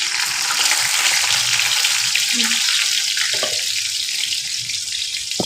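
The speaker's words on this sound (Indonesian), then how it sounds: "Iki ayamnya tak goreng" Chicken frying in a pan, a steady loud sizzle with bright hiss throughout, broken by a few soft clinks and a brief voice.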